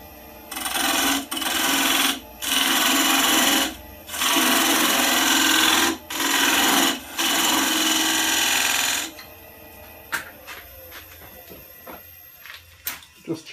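A skewed negative-rake scraper cutting a wooden lidded box blank on a lathe makes loud, rough scraping passes in several bursts of one to two seconds, then the lathe quietens to light taps and handling sounds.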